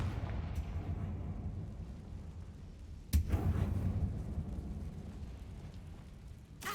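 A Confringo blasting curse explodes in Hogwarts Legacy: a sharp, loud blast bursts out about halfway through, followed by a rumbling decay over a quiet low background.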